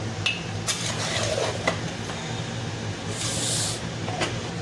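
A spoon scrapes and knocks around a pot while keema masoor pulao is mixed, giving continuous gritty stirring with several metallic clinks over a low hum.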